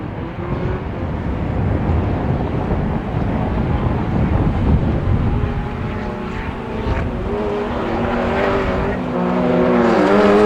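Autograss race cars lap a dirt track at St Neots, their engines roaring steadily and loudly throughout with rising and falling revs as they pass, buffeted by heavy wind noise on the microphone.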